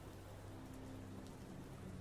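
Steady rain falls outside, a faint, even hiss of drops filling the whole stretch without breaks or voices.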